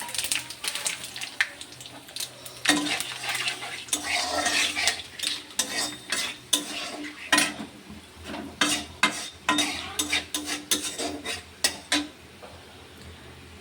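Whole spices for a tempering, including five-spice, radhuni, bay leaf and dried chilli, hit hot oil with a light sizzle, while a metal spatula clanks and scrapes the pan in quick, uneven strokes.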